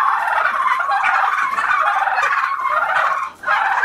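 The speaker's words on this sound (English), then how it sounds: "These turkeys are not going to leave me alone." Several turkeys gobble close by in a dense, continuous chorus of rapid warbling calls, loud and overlapping throughout with only a brief dip near the end.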